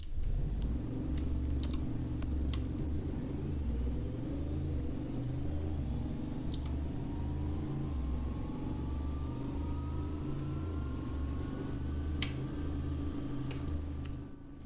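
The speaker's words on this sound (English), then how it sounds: "If I accelerate, and this is in comfort, using its built-in launch control" A 2022 Ruffier PVA70 accelerates hard in comfort mode using its built-in launch control. A low engine rumble rises steadily in pitch and builds over a long, continuous pull with a few faint ticks, and no one talks.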